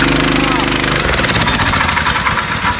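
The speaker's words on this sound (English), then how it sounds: "we're gonna start this up. And this go-kart's just gonna run away because the throttle's already down" A go-kart engine cranks and fires, then runs on steadily with the throttle stuck open, a loud, rough, buzzing drone up close with people talking over it.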